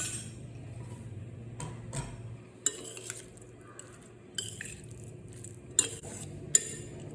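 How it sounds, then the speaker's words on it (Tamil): A spoon stirs tamarind paste through cooked rice in a metal pot for puliyogare, giving soft scraping and mixing sounds broken by several sharp clinks of utensil against metal, close by and fairly quiet. "இதில் இந்த புளிக்காய்ச்சலை கொஞ்சம் சேர்த்துப்போங்க. சேர்த்து கிளறிடுவோம்."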